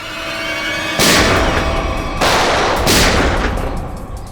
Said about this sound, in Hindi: गोली की चलाई, सुन लो